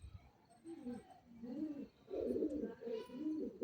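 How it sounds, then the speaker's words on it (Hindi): Pigeons coo in low, throaty, repeated phrases close by, with soft rustling and faint background sounds between calls. "ये देखें माशाल्लाह कैसे कबूतर जा रहे हैं।"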